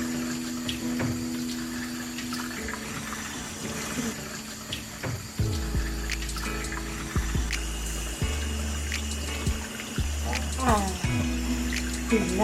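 Water runs steadily into a bath while a baby's hair is washed, a continuous wash of flow with low rumbling surges and occasional splashes, under nearby talk.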